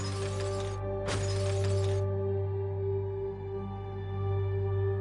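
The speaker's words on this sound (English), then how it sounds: "When that fails, he simply smashes it instead," Glass shatters loudly twice in quick succession as a door is smashed during a break-in, followed by a steady electronic alarm-like tone droning on afterward.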